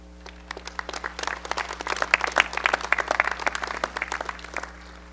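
An auditorium audience claps to welcome two university regents at a presidential inauguration, a dense, steady patter of many hands swelling and then tapering off, with a low steady hum beneath and no talking.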